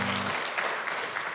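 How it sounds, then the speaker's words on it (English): Audience applause at a live morning community event hosted by a local chamber of commerce in Mesa, Arizona, a brief steady burst of clapping from a room full of people. "Thank you for clapping."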